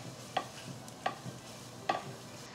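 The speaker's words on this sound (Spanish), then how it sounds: "aquí le voy a agregar una cucharada de caldo de pollo en polvo y también una cucharada de paprika. Vamos a mezclarlo muy bien." A spoon stirs a mixture of powdered chicken bouillon and paprika for a chicken dish, giving three distinct light scraping strokes at a steady rhythm, close and clear with no talking.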